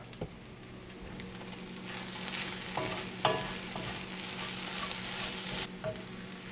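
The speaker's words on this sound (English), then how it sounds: "Let's give our beef a stir." Beef for a Korean beef dish fries in a pan and is stirred, giving a soft steady sizzle with scraping and a few sharp utensil knocks, fairly quiet and close.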